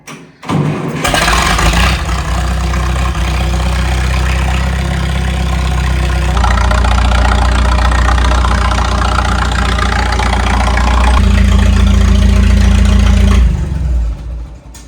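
An old vehicle's engine cranks in the cold and catches, then settles into a loud, steady, rumbling idle that shifts pitch slightly before shutting off.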